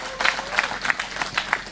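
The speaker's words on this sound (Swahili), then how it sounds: "Pigieni baba makofi" A crowd at a party anniversary event attended by Raila Odinga breaks into short, brisk applause, close and lively, with a voice briefly heard beneath the clapping.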